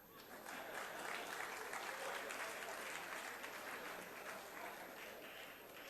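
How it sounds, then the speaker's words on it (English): Members of parliament clap during a budget speech on taxation, a broad sustained round of applause across the chamber, moderately distant and steady, with faint murmuring underneath. "I thought you would clap for that."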